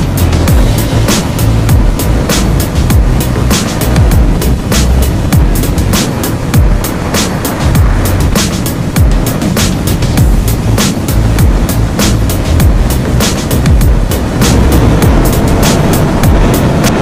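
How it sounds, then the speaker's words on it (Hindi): A KTM Duke 125 motorcycle cruising along an empty road, its engine drone buried under a loud, constant roar of wind buffeting the rider's microphone, steady and unbroken throughout. "खाली रोड पे बाइक चलाने का एक अलग ही मजा है।"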